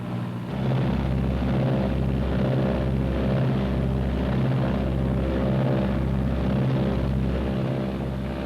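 Steady, loud engine drone with a pulsing low throb as a Martin B-26's twin piston engines run up together to about 1,800 rpm, continuous with no voices.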